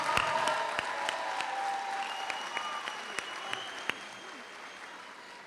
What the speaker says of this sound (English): We'll give one more round of applause for all of our graduates this year